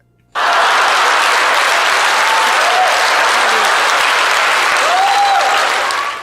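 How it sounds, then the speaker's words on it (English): Loud, sustained applause from a crowd starts abruptly and holds at full strength, a thick wash of clapping with faint whistles poking through before it tapers at the very end. "No, I like some applause."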